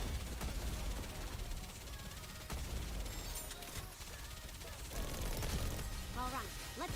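Continuous dense video game gunfire crackles and booms throughout as a steady loud barrage, with voices talking over the battle noise.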